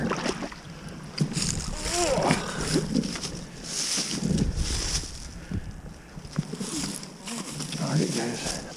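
A beaver trap dropped into water outdoors, giving a splash amid steady wind noise and rippling water, with someone talking over it.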